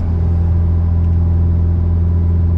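Big-turbo Mazdaspeed6 street car under hard acceleration, a loud, steady low engine drone heard close from inside the cabin, continuous with no talk.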